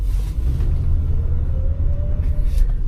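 A 1970 Lincoln Continental engine while driving: a loud low rumble with a faint rising whine as it picks up speed, steady throughout, with no talking.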